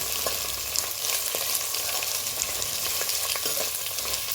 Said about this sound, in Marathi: गाजर थोडीशी कोथिंबीर आपण मस्त परतून शिजवणार आहोत